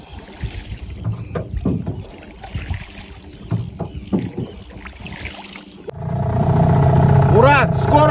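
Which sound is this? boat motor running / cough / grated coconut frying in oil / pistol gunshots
boat motor running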